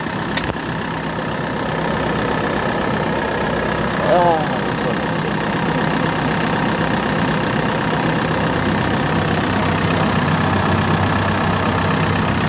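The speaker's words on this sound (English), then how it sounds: "So here's the engine here." A 2005 Kia Bongo III diesel truck engine idles steadily up close, a constant low rumble and clatter throughout with no change in pace.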